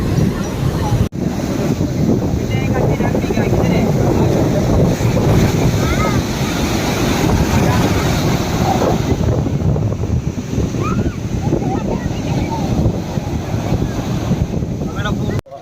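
Surf washing in steadily at a crowded urban beach in Chennai, a continuous loud roar of waves mixed with wind buffeting the microphone, with faint voices of beachgoers in the background.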